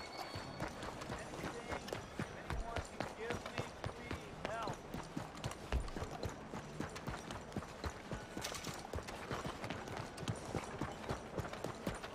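Horse hooves clip-clopping steadily on a city street in Red Dead Redemption 2, a quick continuous rhythmic patter of hoof strikes, fairly faint, with scattered mechanical clatter and ambient noise.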